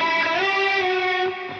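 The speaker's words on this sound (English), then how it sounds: "So that's obviously the overdrive." An electric guitar runs through the distortion overdrive effect of a Roland GP-16 processor, giving a sustained buzzing distorted chord that holds steady, then dips slightly in level near the end.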